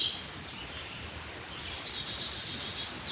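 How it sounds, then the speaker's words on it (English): Spring birdsong outdoors: a few bright chirps and short calls at moderate distance over a soft, steady background hiss, no voices. "just listening to the bird song"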